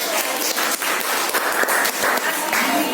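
Classroom applause from high school students after a group presentation on static electricity, a short burst of brisk clapping with some voices mixed in.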